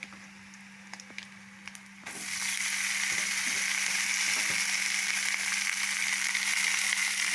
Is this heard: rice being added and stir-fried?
yes